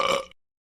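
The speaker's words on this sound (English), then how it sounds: "I burped in class." A single short burp rings out in a classroom, loud and close, then cuts to silence.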